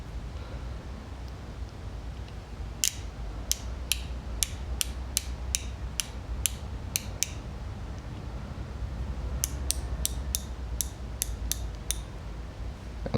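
Gearwrench and Tekton 90-tooth ratchets spin freely in fast bursts of sharp, evenly spaced clicks, two runs separated by a quiet pause, close and crisp over a low background hum.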